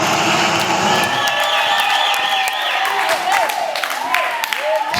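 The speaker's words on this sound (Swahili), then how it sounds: "Kama unanielewa, piga makofi, sema ninaelewa." A prayer-service congregation claps hands steadily throughout, the sharp claps blending with a loud voice and crowd noise that carry over them.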